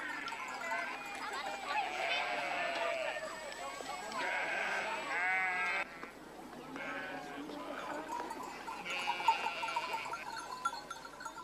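A nomad flock of sheep and goats on mountain pastures bleats in overlapping, wavering calls, several animals at moderate distance, coming in waves with short lulls between them.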